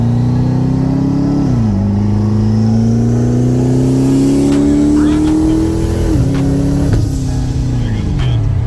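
Twin-turbo Hellcat engine revving hard on a tuning pull, a loud, close engine note climbing and dropping through several gear shifts with faint turbo whoosh and no talk.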